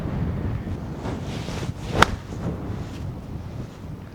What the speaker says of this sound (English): Matt, it's windy